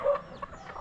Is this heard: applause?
no